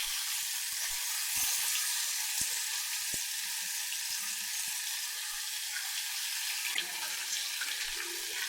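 Loud, steady sizzling and crackling from a hot pan of popped mustard seeds as wet ground masala for thoothuvalai rasam hits the oil, with a fresh burst of sizzle partway through.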